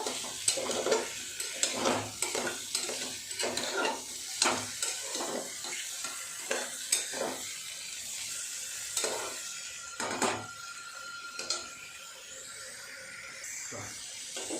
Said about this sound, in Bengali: চিকেনটা একটু নাড়াচাড়া করে ভেজে নিয়েছি।